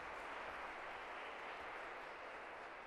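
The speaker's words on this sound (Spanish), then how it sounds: "Ese aplauso." Congregation applauding inside a church during a Spanish-language Mass, a steady, dense wash of clapping that holds evenly for the whole stretch with no voices on top.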